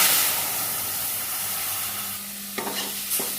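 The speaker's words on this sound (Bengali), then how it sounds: "পোস্তটা বেটে রেখেছিলাম ভেজে নেব" Ground poppy seed paste frying in a pan for potol posto gives a steady close hiss and sizzle, with a few brief utensil scrapes and knocks near the end.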